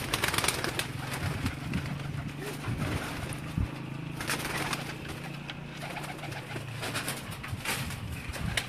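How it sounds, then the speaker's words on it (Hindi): Adult and baby pigeons in a loft coo steadily and overlap, with occasional wing flutters, over a constant background hum. "ये इसमें बड़े कबूतर भी आपको नज़र आएंगे, ये छोटे जो बेबी पिजन्स हैं"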